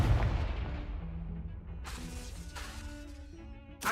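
The Confringo fire spell bursts with a heavy boom and crackling blast in the Hogwarts Legacy video game, followed by rumbling debris and a second sharp hit at the end.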